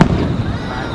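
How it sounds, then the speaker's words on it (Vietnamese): Fireworks burst at a rural summer festival in Tojo, Shobara, Hiroshima, giving one loud, close, booming blast that rumbles and crackles away over a second. "Lúc có pháo hoa nữa"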